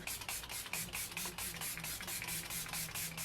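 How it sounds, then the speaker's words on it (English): Repeated short hissing bursts from a Milani Make It Last makeup setting spray pump, a quick rhythmic series of spritzes close to the microphone. "for the very last step, I'm going to be using my trusty Milani Make It Last Setting Spray"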